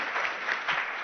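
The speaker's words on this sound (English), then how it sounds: "Let's give a big round of applause for Betsy." Brief, steady applause from a seated audience at a nutrition talk, a dense wash of clapping heard close and without speech.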